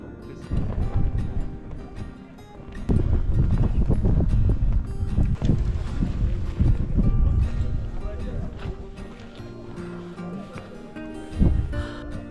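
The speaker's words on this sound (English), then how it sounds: "at Thukla Pass is very windy." Strong gusting wind at Thukla Pass in the Himalayas buffets the microphone with a loud, continuous rumble, with voices faintly audible underneath.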